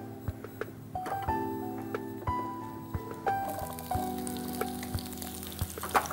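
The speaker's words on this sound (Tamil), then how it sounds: "எண்ணெய் நல்லா சூடாகி அது நல்லா பொரிஞ்சிடுச்சு இப்போ வந்து அவங்க வெங்காயத்தை சேர்த்துருக்காங்க" Chopped onions frying in hot oil for Chettinad chicken, a steady close sizzle with scattered sharp pops and occasional stirring clinks, no voices.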